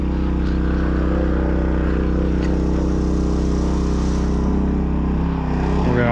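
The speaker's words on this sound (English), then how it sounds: "it looks like our pump's doing some work, doing its job" A pump engine dredging muck from a pond runs loud and steady at close range, a constant droning hum with a slight shift in pitch near the end.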